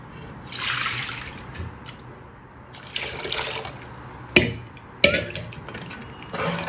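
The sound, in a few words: adding more water to fish curry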